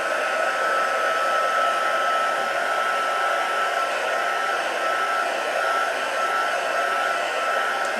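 A hair dryer runs steadily and close to dry matte paint on a decoupage glass plate, giving a constant, loud blowing whir with no pauses.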